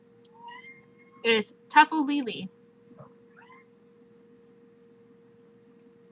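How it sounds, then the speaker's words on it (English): A cat meows a few times up close in short drawn-out cries, with a person speaking briefly nearby against a quiet room. "Sorry, that's my cat."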